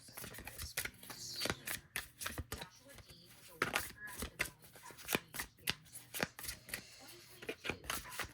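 Tarot cards shuffled by hand in repeated riffling bursts with sharp slaps and flutters, close and fairly quiet, steady rhythm through the whole stretch without talk.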